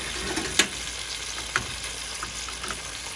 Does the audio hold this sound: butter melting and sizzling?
yes